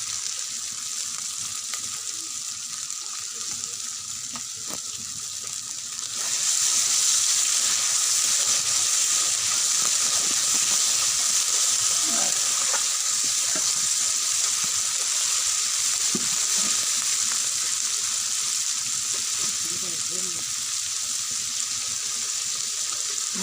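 Spice paste fries in a pan before fish is added, a steady, loud broadband sizzle that swells sharply after a few seconds and then holds, with faint clatter underneath.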